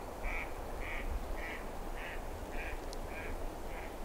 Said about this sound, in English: I spooked a couple of ducks.